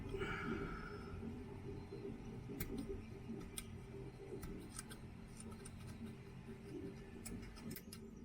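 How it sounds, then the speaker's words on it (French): Scissors snipping through a thick cotton wick for a rebuildable tank atomizer, a series of sharp, fairly faint clicks and snips spread unevenly over steady low background noise. "Je vais pas péter mes ciseaux."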